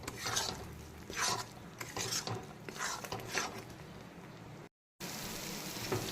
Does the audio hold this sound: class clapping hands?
no